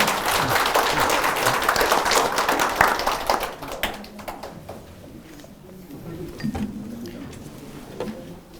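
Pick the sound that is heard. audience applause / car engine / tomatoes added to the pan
audience applause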